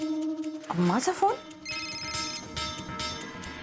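A telephone rings with a steady electronic ringtone in an indoor scene from a Marathi TV serial; the close tone carries at moderate volume and then gives way to busier, mixed background sound.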